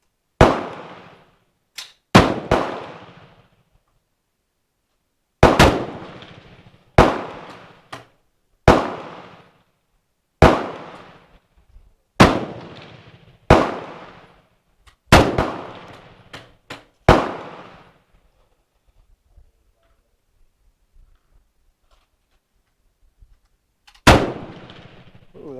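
FN FAL STG58 rifle fired outdoors in slow single shots, about a dozen sharp loud cracks each trailing a short echo, spaced a second or two apart, then a long pause before one last shot.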